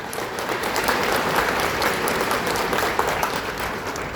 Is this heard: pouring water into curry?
no